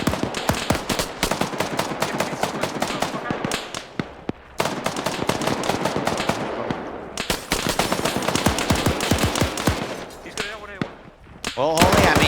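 Machine gun fire in a video game, long rapid bursts of loud close gunshots broken by short pauses, with a commentator talking over the shooting.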